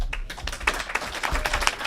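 A short burst of hand clapping from one or a few people, quick uneven claps close to the mic with no voices.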